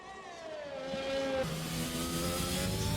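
A race car in a PC racing game on a Belgian circuit whines through tight curves, its engine pitch sliding down and then climbing again, steady and moderately loud with no talk.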